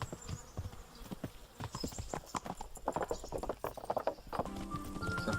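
Horse hooves clip-clop steadily in the video game Kingdom Come Deliverance, a close, brisk rhythmic trot with faint buzzing insects in the background.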